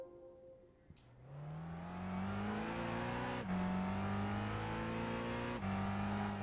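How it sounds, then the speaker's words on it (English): A car engine revs up from low to high, its pitch climbing in steady surges with brief dips between gear changes, loud and close. "Love the sound of that engine. Just purrs like a kitten."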